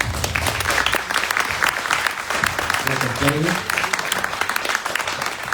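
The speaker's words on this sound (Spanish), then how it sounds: "Les voy a pedir que lo recibamos con un fuerte aplauso" A lecture audience applauds to welcome the speaker, loud dense clapping throughout with a brief voice murmuring under it midway.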